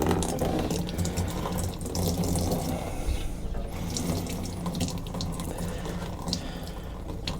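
Old varnished fuel draining from a generator fuel tank, a steady close splashing and trickling pour that runs continuously without pause.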